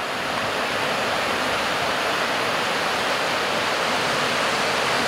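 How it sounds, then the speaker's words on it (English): White water rushes over rocks in a creek in Icicle Canyon near Leavenworth in the Pacific Northwest, a steady, loud, broadband roar that holds unbroken throughout with no voices. "White water right down there."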